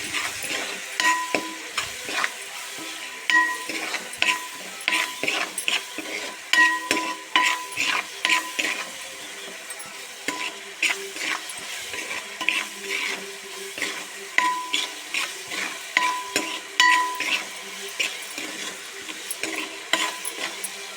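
A spoon stirs turmeric and salt in a hot pan, giving repeated scraping clinks and soft sizzling in an irregular rhythm for about twenty seconds, close and fairly quiet with no talk.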